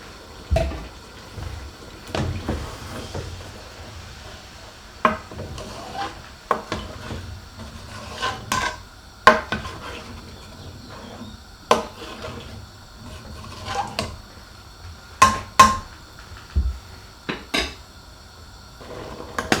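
Stock poured into a pot of red kidney bean curry, followed by intermittent clinks and scrapes of stirring, close by and uneven in rhythm.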